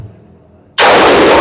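After a quiet moment, a Geissele Super Duty AR15 5.56 rifle fires at an outdoor range, a sudden, very loud, close blast that fills the rest of the moment.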